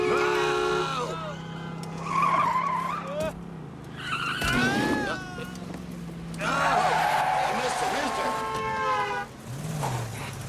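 A race car skids around a figure-8 track, tires squealing in long sliding bursts over an engine drone, while excited voices talk loudly over the action.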